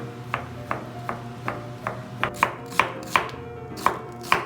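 Steady, evenly spaced knife strokes chopping food on a cutting board, each a sharp close thud, about a dozen in a row with no talking over a constant low background hum.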